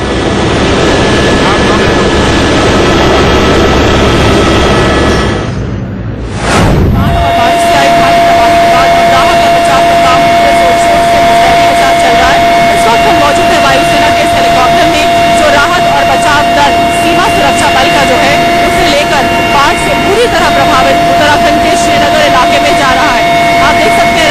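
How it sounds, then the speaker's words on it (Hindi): An Indian Air Force helicopter flies toward flood-hit Srinagar, its loud, steady engine and rotor roar filling the cabin, with a brief dip partway through before the drone resumes. "इंडिया न्यूज की कार्यकारी संपादक शीतल राजपूत वायुसेना के हेलीकॉप्टर में सवार हो गयी और बाढ़ से तबाह हो चुके श्रीनगर की ओर बढ़ गयी।"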